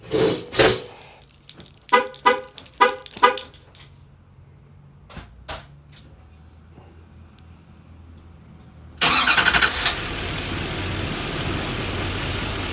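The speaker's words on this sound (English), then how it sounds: "we'll start it here with the keyless entry" A 2022 Chevy Silverado Duramax is remote started with a keyless fob: a burst of short clicks and chirps, a quiet pause, then the diesel catches and settles into a loud, steady run.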